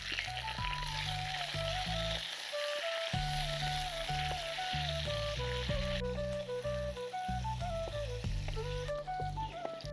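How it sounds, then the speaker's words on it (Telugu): Pieces of dry fish fry in a little hot oil in a village-style kitchen, giving a steady, close sizzle and crackle throughout, with music playing over it. "నూనె మరిగిన తర్వాత ఎండు చేపలు వేస్తున్నాను."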